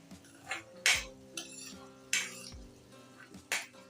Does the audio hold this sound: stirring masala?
yes